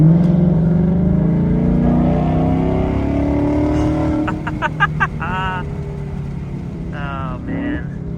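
A Ford Mustang engine hums steadily from inside the cabin, rising and settling as it drives, with a few short voiced sounds near the end.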